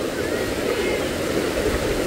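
Rushing floodwater from a swollen river pours past in a steady, loud broadband roar with no breaks, close by and continuous throughout.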